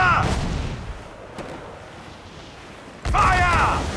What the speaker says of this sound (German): Kanone bereit! Feuer!